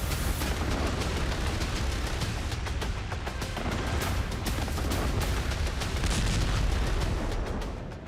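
Dense barrage of booms and blasts from midnight missile strikes in Crimea, Storm Shadow missiles launched toward the peninsula, rolling and overlapping continuously, loud and distant-echoing with no pauses.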